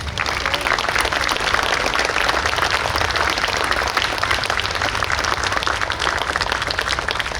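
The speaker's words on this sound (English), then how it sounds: "we think it's those guys that deserve a real round of applause today" Sustained audience applause from a crowd watching a New York State Police special operations response exhibition, dense steady clapping holding at an even level throughout with no talk over it.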